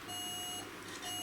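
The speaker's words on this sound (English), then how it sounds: "It's your smoke alarm, Dillis. They make that noise when the batteries are running down." A smoke alarm with low batteries chirps from a Fireman Sam VHS tape, giving a thin, high electronic beep that sounds twice with a short gap, faint over a background hum.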